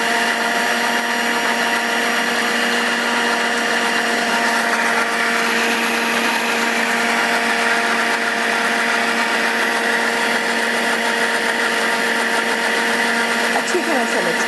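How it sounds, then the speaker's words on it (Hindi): An electric blender grinds spices and mixed lentils for daal khichdi with a loud, steady, high-pitched whirring drone that runs unbroken for about fourteen seconds. "अब मैं इसको ब्लेंड कर लूँगी"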